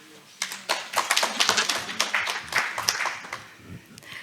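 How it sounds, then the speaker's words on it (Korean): Scattered, uneven hand claps from a modest audience welcome a speaker at a live first Separated Families Day gathering, close and fairly loud, rising after a short quiet start and tapering off at the end. "박수로 환영하겠습니다"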